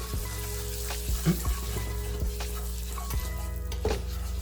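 Butter with cinnamon and nutmeg sizzles gently in a pan over super low heat, a steady soft crackle with a few stirring scrapes and light clinks along the way.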